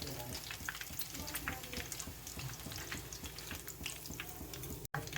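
Egg fingers deep fry in hot oil with a steady, dense sizzle and bubbling crackle that carries on close and continuous throughout.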